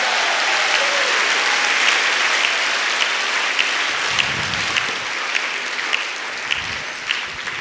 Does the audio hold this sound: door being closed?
no